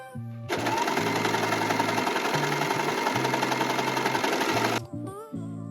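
An overlock machine stitches a shirt seam in one loud, fast, continuous whirring burst of about four seconds, with brief quieter pauses at the start and end.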